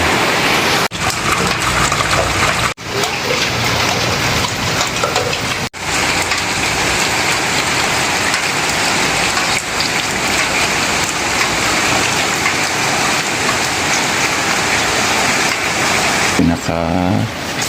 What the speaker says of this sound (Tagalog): talaga naman pong lakas po ng ulan